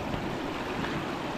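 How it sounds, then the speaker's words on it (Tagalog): A strong current of water flows during heavy rain, giving a dense, continuous rushing wash that fills the short moment with no talk. "Ayan, malakas ang agos."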